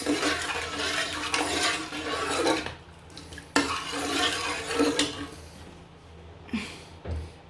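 Oil for abacha, an African salad, being stirred in a pot, with scraping and clinking of a spoon against metal in bursts that stop and restart, moderately close.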